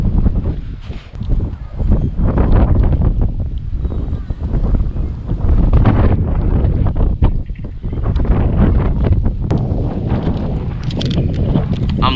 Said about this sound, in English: I'm literally tinting right now, and it is so windy